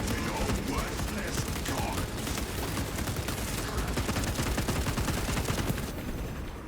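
Continuous rapid heavy bolter fire in the video game Space Marine 2, a dense, loud, unbroken stream of booming shots mixed with explosions and battle noise.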